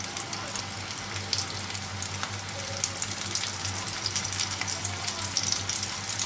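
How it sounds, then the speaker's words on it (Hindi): Tikki patties shallow frying in a pan over a low gas flame give off a steady, even sizzle that holds at a moderate level throughout, with no voices. "टिक्की को हम शैलो फ्राई करेंगे। गैस धीमी ही रखनी है।"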